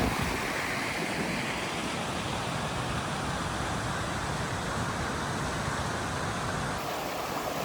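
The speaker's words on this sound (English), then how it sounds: "It's a creek going down into the river." A creek along the Appalachian Trail rushes down into a river, a loud, steady, close broadband roar of flowing water that continues unbroken throughout.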